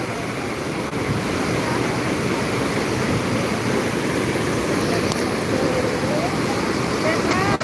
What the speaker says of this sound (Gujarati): તાપી નદીનું રૌદ્ર સ્વરૂપ